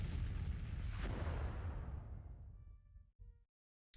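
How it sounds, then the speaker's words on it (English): Cannon artillery fire booms in the Civil War strategy game Grand Tactician, a heavy blast rolling into a long rumbling decay that fades to near silence, followed by a short softer burst and a final thump. "cannons are opening up"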